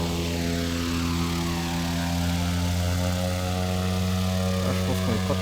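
Canadair water bomber engines in a flight simulator game drone steadily at half throttle, a loud continuous propeller hum with strong tonal layers that holds even throughout.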